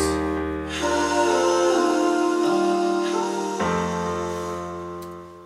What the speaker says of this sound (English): the piano and those background vocals sound together like this